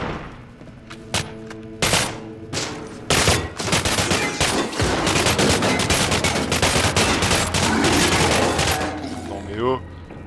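Sustained automatic gunfire in the horror shooter Cryostasis, rapid bursts of shots packed close and loud for several seconds, with a voice talking over parts of it.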